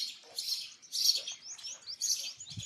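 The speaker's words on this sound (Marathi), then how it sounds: "चिमण्यांचा आवाज ऐकला तिने" Sparrows chirping inside a house, with quick, high, repeated chirps coming in short clusters at a modest distance, fairly faint against a quiet room.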